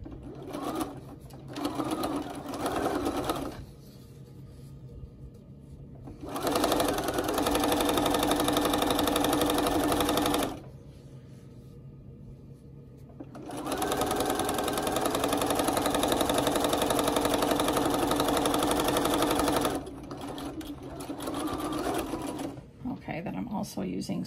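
Sewing machine fitted with a walking foot stitching layered fabric with batting between, running in several loud bursts of rapid mechanical whirring separated by quieter pauses, with faint handling noise in the gaps.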